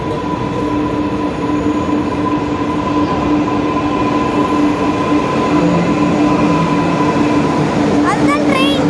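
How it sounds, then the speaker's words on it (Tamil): A metro train pulls into the station with a loud, steady rumble and a sustained tonal whine, wheels squealing briefly near the end as it slows. "நம்ம ட்ரெயின் நான் போகிற ட்ரெயின் வந்துருச்சு."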